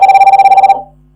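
A telephone rings with a rapid trilling bell for about three-quarters of a second, an incoming verification call arriving during a login check, then falls silent.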